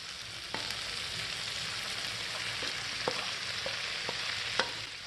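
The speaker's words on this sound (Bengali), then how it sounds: "এখন এগুলো ভালো করে নেড়েচেড়ে 3-4 মিনিট ভেজে নেব" Sausage and egg frying in a pan for a pasta dish with Maggi masala, a steady close sizzle broken by a few light scraping stirs of a utensil, no talking.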